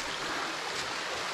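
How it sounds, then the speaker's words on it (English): A small waterfall carrying little water trickles and splashes in a soft, steady wash, fairly quiet and continuous. "This should be a glorious waterfall"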